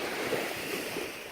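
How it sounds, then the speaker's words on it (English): Ocean waves breaking on a beach, a steady broadband wash of surf with soft swells rising and falling, fairly close and even throughout, with some wind buffeting the microphone. "You're not sure about those waves?"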